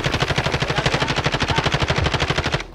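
Rapid automatic gunfire in Call of Duty, a loud, continuous burst of evenly spaced shots rattling for over two seconds before stopping.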